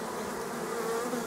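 Honey bees buzz on a hive frame, a dense, steady drone of many insects close up, unbroken and fairly faint.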